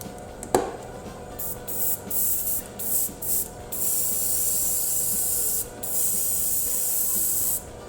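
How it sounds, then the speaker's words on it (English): An airbrush driven by an air compressor sprays paint onto an Eldar Revenant Titan miniature in bursts of bright, close hissing, a short click first, then several brief sprays before longer sustained spraying with one pause. "I'm going to put on the air compressor, and hopefully it's not too much noise"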